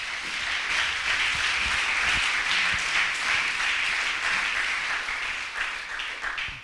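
A church congregation applauds in praise during a prophetic sermon: loud, dense, sustained clapping from many hands filling the room, steady throughout before easing slightly at the end.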